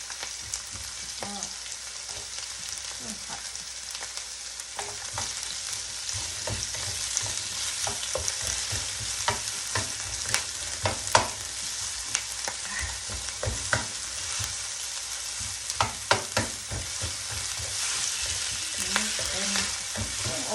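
Bacon stir-frying in a pan, a continuous close sizzle broken by repeated scraping and clattering strokes of a spatula against the pan, with irregular louder knocks.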